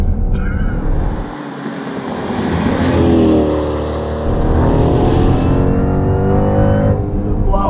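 A 1,000 hp silver Jeep Grand Cherokee sleeper accelerates hard onto a highway, its engine roaring loud and close as it climbs through short gears, the pitch rising and dropping at each shift, with no talking.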